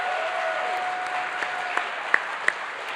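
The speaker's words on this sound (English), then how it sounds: "Let's give another round of applause to Automation Direct" Audience applause at a FIRST robotics kickoff ceremony in Atlanta, a soft, distant wash of clapping from a crowd with a few sharper individual claps standing out near the end.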